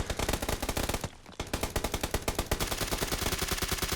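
Rapid automatic gunfire in the battle royale game PUBG, played on Xbox One X: loud close bursts of fast shots, a brief pause, then a long continuous volley of evenly spaced rounds, with no talk.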